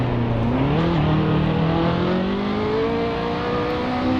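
A Mercedes 300SLR engine in Assetto Corsa drones loudly and steadily. It climbs in pitch through an early gear change, then holds a smooth, rising note. There is no talking.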